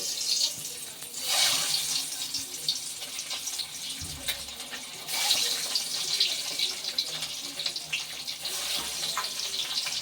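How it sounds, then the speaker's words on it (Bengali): Eggs coated in salt, turmeric and chili powder sizzle in hot mustard oil, a steady close hiss with louder spitting bursts as they go into the pan. "এবার লবণ, হলুদ আর লঙ্কার গুঁড়ো মাখানো ডিমগুলোকে ভেজে নেব।"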